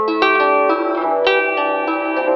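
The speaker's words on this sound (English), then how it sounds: "And then I'm going to plug my harp into Lossy," Harp run through a Chase Bliss Lossy pedal, sustained harmonic plucked notes with a steady drone underneath and several fresh attacks, close and moderately loud with no voice.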